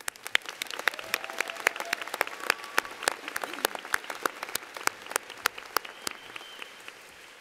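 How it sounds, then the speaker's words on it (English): Applause from a commencement crowd: many hands clapping in a dense, steady patter at moderate volume, with a few sharper claps standing out. "join me in a round of applause for our musicians"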